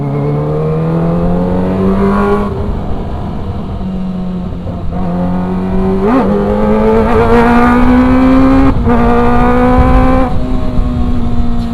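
A Kawasaki ZX-25R motorcycle revs hard and close on a test ride in West Papua, its engine note climbing steadily with a few brief drops between gears, loud and continuous with no talking.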